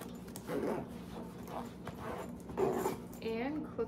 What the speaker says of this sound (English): I'm gonna zip up the main compartment.